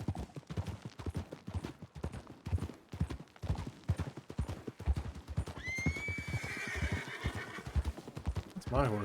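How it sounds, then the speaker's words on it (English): A horse in the Western game Red Dead Redemption (WildRP) whinnies loudly partway through while hooves clip-clop in a quick steady rhythm throughout, close and clear. "That's my horse."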